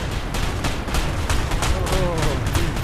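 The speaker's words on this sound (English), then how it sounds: "We're taking shots though." Dense bursts of gunfire from a VR Battlefield-style shooter game, a loud continuous barrage of rapid shots with heavy rumbling low end and sharp repeated cracks throughout.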